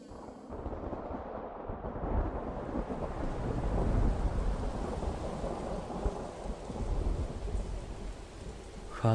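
Torrential rain pours in a dense, constant wash while thunder rumbles low underneath, swelling and easing across the stretch with no voices.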